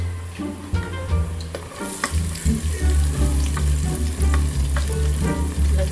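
Garlic, turning golden brown, sautés in a hot pan at close range with a loud, dense sizzle and the clatter of a utensil stirring throughout.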